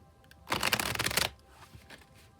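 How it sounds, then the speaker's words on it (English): Tarot card deck being shuffled by hand, one dense riffling burst lasting under a second, close and crisp, then quieter handling noises afterward. "I'll shuffle until the deck feels ready"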